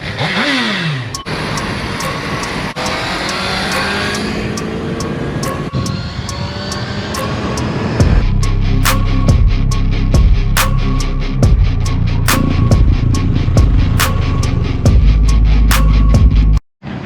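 A jet ski engine runs loud and steady on the water, its roar carrying a rising whine early on, then settling into a harsher drone with a regular, rhythmic thumping through the second half. No voices are heard.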